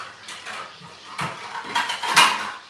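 Cooked navy beans with fatback meat are spooned from a pan into a bowl, giving scattered clinks and scrapes of a utensil against cookware at moderate volume, with a sharper clatter near the end.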